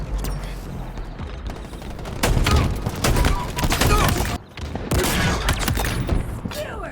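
Gunfire in Halo Infinite comes as dense bursts of rapid shots and booming impacts, loud and close, broken by a brief lull midway, with game mechanisms clanking between volleys.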